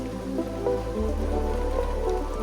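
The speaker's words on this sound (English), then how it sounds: "the rain is so heavy now" Steady heavy rain in Japan pouring and pattering on surfaces, a dense continuous wash of drops with a low rumble underneath.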